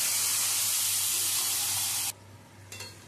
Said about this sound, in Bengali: এবারে ভেজে রাখা পেঁয়াজের মধ্যে দিয়ে দিচ্ছি ম্যারিনেট করা চিকেনটা।